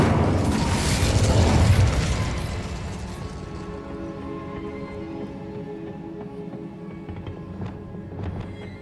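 The Incendio fire spell bursts out in Hogwarts Legacy with a loud roaring whoosh for about two seconds. It then fades into a lower rumbling tail over soft background game ambience.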